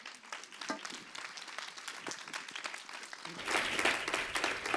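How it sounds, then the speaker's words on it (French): Audience applause at a tourism and events conference in France, a dense steady clapping that swells louder and fuller toward the end. "Je crois qu'on peut à nouveau les applaudir."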